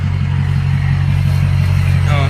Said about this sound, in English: the truck should sound a lot better because it's gonna have that EGR delete